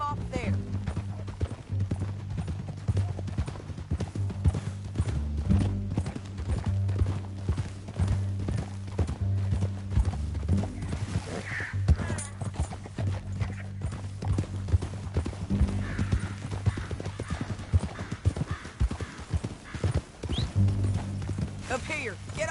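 Horses galloping in a PS4 video game, with rapid, continuous hoofbeats rolling steadily under background music while characters talk throughout.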